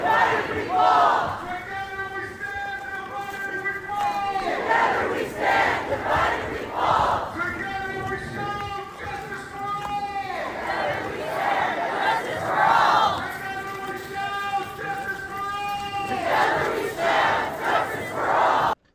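A large protest crowd at an ICE protest shouts and chants in loud, rhythmic bursts, many voices together rising and falling in waves across the whole stretch.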